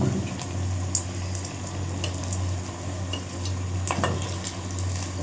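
Pav bhaji sizzling and frying in a pan as it is stirred, a steady close hiss with occasional scrapes and clinks of the spoon against the pan, with no voices.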